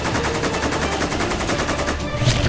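Rapid automatic gunfire from a dinosaur film, a loud, evenly spaced rattle of shots that runs nearly the whole time, then drops off near the end into a lower rumble.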